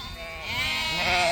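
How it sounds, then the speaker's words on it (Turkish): Sheep bleating from a flock of ewes with lambs, a single loud, close, wavering bleat drawn out over about a second and a half, with other animals faintly behind it. "Satılası koyun, 120 başı koyundur."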